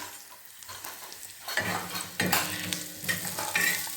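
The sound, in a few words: onions frying in a pan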